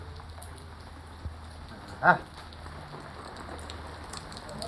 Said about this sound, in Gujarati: આ વરસાદ ચાલુ થઈ ગયો હે